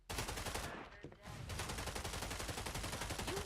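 Rapid automatic gunfire in the game Rainbow Six Siege X, loud bursts that stop briefly, then resume as a sustained rattling volley.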